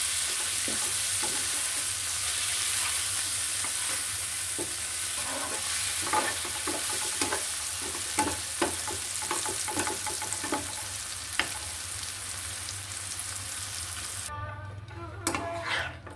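A pan of snake gourd and egg bhuna fries with a loud, constant sizzle, while a spoon stirs and scrapes through it in irregular clinks and knocks.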